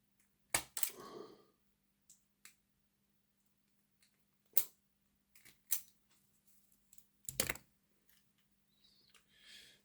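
Buffers being snipped off an old model railway wagon while converting a Hornby 0-4-0 tank engine, a handful of sharp, isolated clicks and snaps spaced apart in a quiet room.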